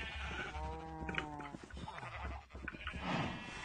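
A Minecraft sheep gives a clear, close bleat with a wavering, harmonic tone, followed by quieter game noise and a short rustle.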